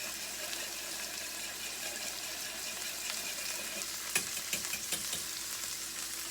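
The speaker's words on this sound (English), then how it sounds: "I should whisk it right away when these yolks get in so they don't start to scald to the bottom" Egg yolks whisked into hollandaise sauce in a pan, a continuous soft sizzle with steady stirring and a few faint clinks near the end, close and quiet with no talking.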